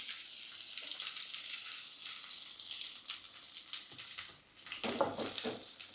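Small onions frying in sesame oil in a pan, a close, bright sizzle and crackle that keeps going, flaring louder toward the end.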